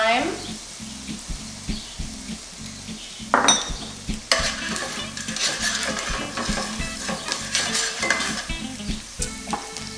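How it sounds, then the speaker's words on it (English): Shallots dropped into hot duck fat in a pan, crackling into a bright, steady sizzle with a burst of spitting as they land, close and loud, under a low repetitive rhythmic background. "Now I'm going to drop in my shallots. Let them start to cook."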